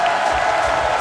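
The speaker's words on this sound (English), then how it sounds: "will you kindly keep the applause going" A wrestling show crowd applauds in a brief burst of steady clapping and cheering, dense and close, filling the room with a continuous wash of noise.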